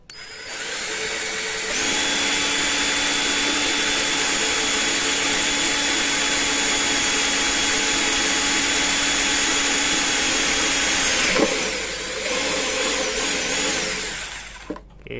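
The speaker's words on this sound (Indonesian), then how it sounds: "Sinilah ya, kita bor di sini." A power drill bores holes for cables during mobile crane load moment indicator installation, running as a loud, steady whine for over ten seconds before winding down, close by with no talk.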